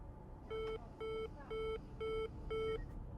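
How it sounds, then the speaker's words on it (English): An oxygen alarm giving a soft repeating beep: five evenly spaced electronic tones, each about a quarter-second long, sounding quietly over a low background rumble. "The oxygen alarm began a soft repeating beep"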